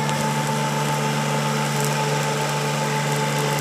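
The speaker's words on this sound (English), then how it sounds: "Now she gets the bush hog going." A remote-controlled bush hog mower runs steadily with a continuous high-pitched engine whine and mechanical hum, cutting through wet grass; the drone stays loud and even throughout with no talk.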